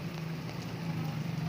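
Heavy monsoon rain falls in Taxila as a soft, continuous hiss of drops, faint and steady over a low hum.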